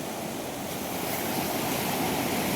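Floodwater rushes after a typhoon in a steady, dense roar of churning current that stays loud and even throughout, with no voices.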